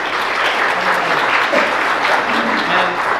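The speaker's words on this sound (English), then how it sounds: "So let's give a round of applause for these guys real quick." A youth group dream team gets a round of applause at a church Youth Sunday service: loud, sustained clapping from a crowd that fills the room without a break.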